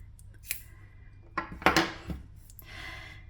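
Scissors snip through crochet yarn, giving a few crisp metallic cuts close by with a short cluster of clicks and rustling in the middle, all quiet with no speech.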